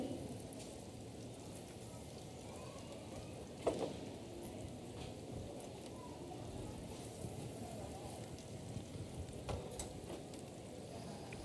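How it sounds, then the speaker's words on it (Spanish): Pineapple slices brown in a pan with a steady, quiet sizzle that crackles evenly throughout, with a faint voice underneath. "comenzamos a dorar la piña"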